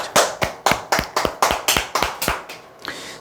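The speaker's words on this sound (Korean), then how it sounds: "박수 한번 주시죠." A short round of applause from a small audience at a talk, about ten distinct, evenly spaced claps ringing close and crisp before tapering off into quiet.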